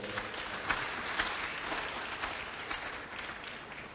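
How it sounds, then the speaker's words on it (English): Applause from an audience at a medical council pledge-taking ceremony for the Minister of Health, a dense, steady wash of many hands clapping that carries on for the whole stretch at moderate loudness with no voices. "I would think that the Honorable Minister of Health deserves a louder round of applause."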